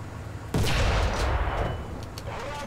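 An artillery strike in War Thunder hits with one sudden heavy boom, followed by a long rumbling decay and scattered smaller cracks, loud and close.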